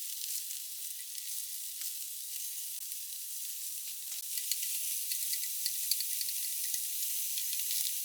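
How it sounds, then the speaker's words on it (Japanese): Carrots stir-fry in a pan with a steady, close bright sizzle and crackle that runs unbroken, with faint stirring ticks and no voices. "焼き終わったところを拭いたら、人参を炒めます。"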